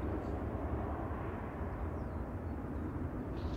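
A Ryanair Boeing 737-800 at Manchester Airport gives a low broadband jet rumble, distant and faint, holding steady through the short stretch with no clear talk.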